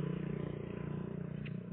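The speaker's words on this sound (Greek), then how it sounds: "Μπορεί τα μηχανάκια." Motorbikes pass outside as a muffled, steady engine drone, low and distant, holding throughout with no clear passes or voices.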